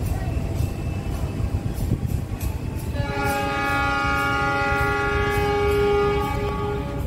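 Argo Wilis passenger train pulling out of Kroya station, a long loud multi-tone horn sounding from about three seconds in over steady rumbling wheel and platform noise.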